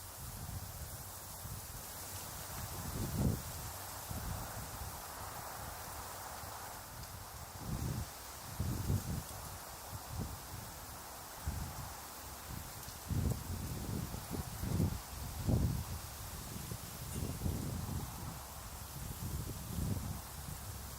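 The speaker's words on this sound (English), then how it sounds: "It's still gusting bad." Gusting wind blows outdoors at night, a steady broad rush that swells in low buffeting surges, moderately loud and continuous with no voices.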